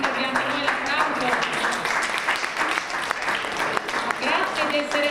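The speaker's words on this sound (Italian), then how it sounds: "se volete prendervi anche voi l'applauso" Audience applause at an award ceremony, a steady wash of clapping held at an even level throughout, with voices talking underneath.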